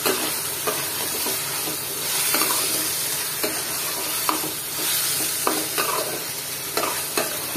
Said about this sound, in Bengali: আর মাংসটা দিয়ে এটাকে আমি আবার একটু কষিয়ে নিলাম নেড়ে চেড়ে।